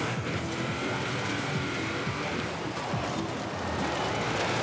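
A hovercraft-event car drifts in Forza Horizon 4, its engine roaring continuously with a sustained wavering tire squeal over the top, loud and close throughout.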